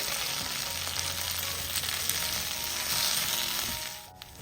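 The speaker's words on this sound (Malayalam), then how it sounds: "ഈ പൊടിയുടെ പച്ചമണം പോകുന്നവരെ ഒന്ന് ഇളക്കി കൊടുക്കാം" Chili and coriander powder frying in oil in a pan on low flame, giving a steady close sizzle with light stirring scrapes now and then, continuous and even throughout, no speech.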